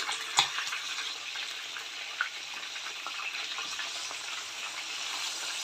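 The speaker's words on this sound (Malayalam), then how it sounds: "നമ്മുടെ ഫിഷ് ഫ്രൈ ഇവിടെ വൺ സൈഡ് ആയിട്ടുണ്ട്" Kerala-style mackerel (ayala) fries in a pan with a steady, close, even sizzle throughout and a couple of brief clicks near the start; no one speaks.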